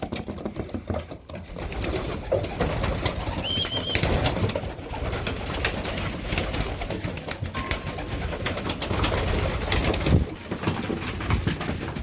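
Homing pigeons coo steadily in a loft, a dense, continuous murmur of overlapping low calls close by, with occasional wing flutters and shuffling throughout.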